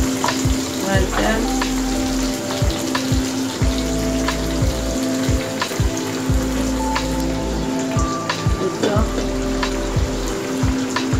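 Hilsa fish frying in a pan, a steady close sizzle with scattered spitting crackles and a few dull utensil knocks throughout, with no one talking.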